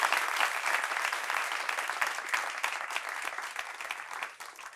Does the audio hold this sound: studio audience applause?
yes